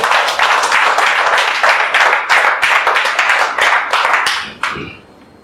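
An entrepreneurs' gathering audience applauds itself, a dense burst of hand clapping that holds steady for several seconds before thinning out and fading.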